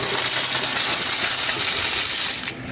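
Loose coins from a piggy bank pour and jingle continuously while being counted, a dense, bright metallic clatter that holds steady at close range, then stops abruptly near the end.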